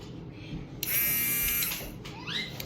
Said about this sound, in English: I just took a crack at it with a Dremel.